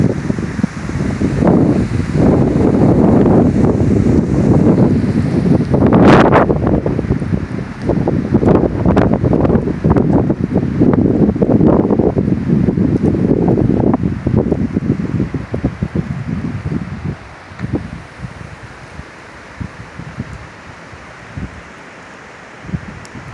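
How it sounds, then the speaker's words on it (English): Strong wind of 40 to 50 mph gusts at a lakeside campsite on Allatoona Lake, roaring and buffeting the microphone in loud, continuous surges before easing off in the final seconds. "Probably got at least 40 mile an hour wind, you know now. Gusting to 50 probably."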